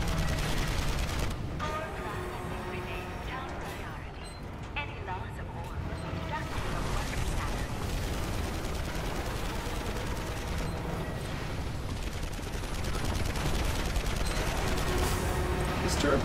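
Gunfire aimed at a turret in the game Marlow Briggs and the Mask of Death, dense bursts of shots over heavy rumbling action sounds, with someone talking over the battle.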